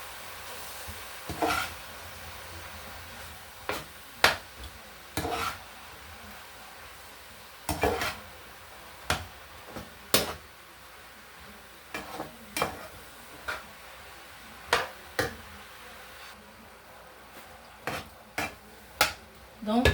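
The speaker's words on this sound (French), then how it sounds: "Je mélange bien le tout." Mushrooms and chicken breast stirred in a saucepan give a steady series of sharp utensil clinks and scrapes against the pan over a soft, continuous sizzle, fairly close and unhurried.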